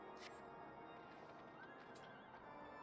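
A horse mount in Final Fantasy XIV gives a short whinny with hoof clip-clops over a faint, steady game background, no talking.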